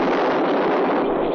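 A loud, sustained burst of noise like a gunshot blast, filling the whole moment with no talking.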